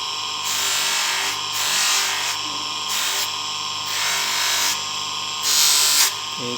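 A rotary power tool polishes the back of a handmade silver abstract heart pendant, giving a steady high whine that swells and eases in repeated bursts as the piece is pressed to the wheel, close and loud with no talk.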